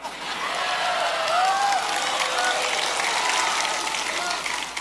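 Audience at a large Islamic tabligh akbar sermon gathering breaks into sustained clapping and cheering, a dense, steady wash of applause with scattered whistles and whoops lasting the whole stretch.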